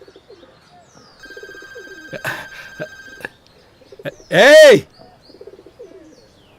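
A telephone rings indoors in a home in a few short electronic bursts, fairly faint, with a loud sharp shout and some talk in the room, in a Hindi-dubbed action film.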